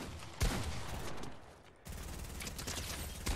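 Gunfire in the Fortnite battle royale game, dense bursts of rapid shots in two stretches broken by a short lull, loud and close.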